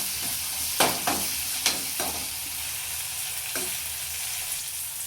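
Finely chopped tomato sizzles in a pan for pav bhaji, with a steady frying hiss and a few sharp spoon clanks as it is stirred.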